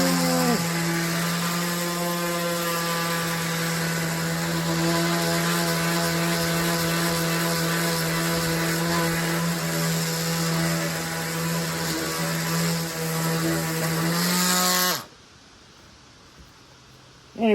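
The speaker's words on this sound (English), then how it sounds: "keep on going with the sander some more." Power sander working over chainsaw-carved wooden bird cabins, a loud steady motor whine with a grinding rasp that runs continuously for about fifteen seconds, then cuts out abruptly, leaving near silence.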